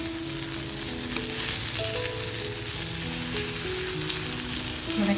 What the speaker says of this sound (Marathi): आपली एक बाजूनी मच्छी अशी छान फ्राय झाली आहे